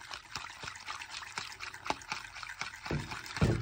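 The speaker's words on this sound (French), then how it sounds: "donc là je mélange les 2 cuillères à soupe de maïzena avec de l'eau" Two tablespoons of cornstarch being stirred into warm water, a soft liquid trickle with faint clinks of a spoon against the container, steady and close with no talking.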